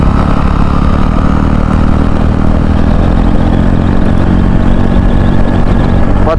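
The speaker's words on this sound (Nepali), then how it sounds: "कत्तिको स्पिड कुद्दो रहेछ यो बाइक" A motorcycle engine drones loud and steady while riding, a continuous close rumble with rattling and wind noise throughout.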